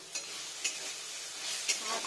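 Tiger prawns sizzle in a kadai for a dish with banana blossom. A spoon scrapes and stirs in short strokes every second or so over a continuous bright frying hiss.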